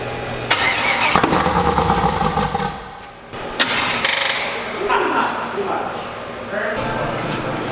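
An eight-turbo Ford Mustang engine cranks and fires up, a loud, rough mechanical roar that continues close by while people talk over it.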